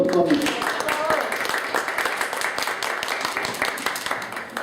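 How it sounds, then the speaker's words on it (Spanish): Loud, dense applause from a crowd, steady claps filling the space for several seconds, with a voice briefly over the start. "pido un aplauso fuerte para mi amigo Beto Chiñas"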